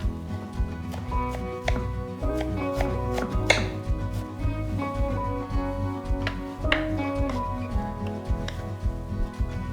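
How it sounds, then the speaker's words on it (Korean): Rapid, steady knife chopping of braised burdock root on a cutting board, close and crisp, with a few louder clicks mixed in. "우엉 졸인 거를 송송 썰어서 집어넣을 거예요"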